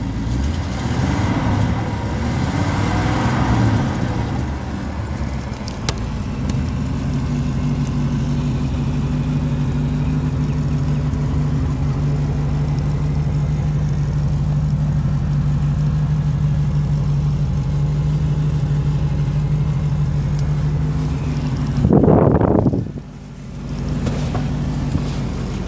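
A 1971 Rolls-Royce Silver Shadow engine runs at a steady, smooth idle for most of the stretch, then gives one brief rev near the end before settling back, heard close and alone.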